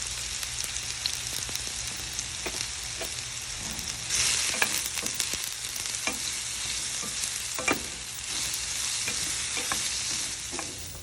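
Bitter gourd pieces fry and sizzle in an oiled pan for a South Indian curry, with a steady crackling hiss and occasional stirring scrapes close up.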